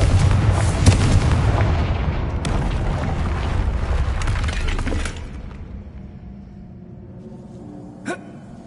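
Confringo blasting spell in Hogwarts Legacy, a loud burst of explosive crackling and shattering debris that lasts several seconds, then fades into quiet, followed by one short faint pop.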